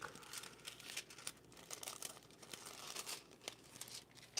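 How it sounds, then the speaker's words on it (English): Thin crafting foil sheet being peeled back from a surface, soft crinkling and light tearing rustles in quiet irregular bursts, close and faint, with no talking. "you can just peel it back"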